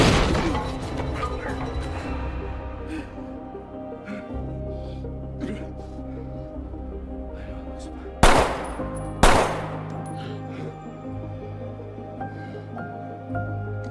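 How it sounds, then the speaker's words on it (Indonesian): Gunfire in a tense film fight scene: two sharp, loud shots stand out over a low rumbling score, with earlier faint crackling. "Tepat di mana saat Tyler terpojok, Ovi tiba-tiba muncul dan tidak sengaja menembak Casper hingga tewas"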